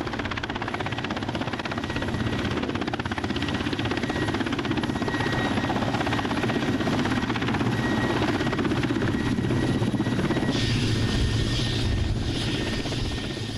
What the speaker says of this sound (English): The helicopter touches down on the muddy Lyakovsky Island earth.